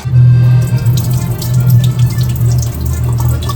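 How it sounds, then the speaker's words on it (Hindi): Tap water runs steadily into a kitchen sink while a knife is rinsed under the stream, a continuous close splashing rush with slight shifts in flow and no talking. "एंड एक चाकू, इसको मैं एक बार धो लेती हूँ।"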